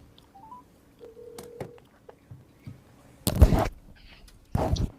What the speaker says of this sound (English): So Carol, I'm calling your cell phone.